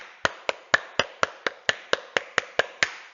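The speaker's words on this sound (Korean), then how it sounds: "우리 모두에게 다 같이 격려의 박수" About a dozen crisp hand claps of encouragement sound close by in a steady, even rhythm at the end of a lesson, with no talking in between.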